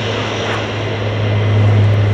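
An Italian Air Force C-130J turboprop transport flies near Lakenheath in the UK, its propeller engines a loud, steady droning roar that swells slightly as it passes.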